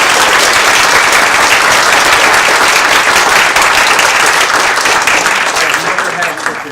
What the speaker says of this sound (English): Can we get a big round of applause for all our candidates?